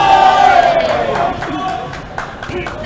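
Fight crowd roaring and cheering as Poken Siga lands a left hook in a Super Fighter Series bout against Rohit Choudhary, a loud continuous swell of voices with shouts rising above it.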